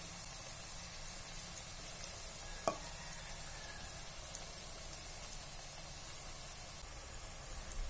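Kerala banana slices frying in coconut oil give off a faint, steady sizzling hiss, broken once by a single short clink of the spoon as they are stirred.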